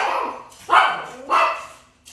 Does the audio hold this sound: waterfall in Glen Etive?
no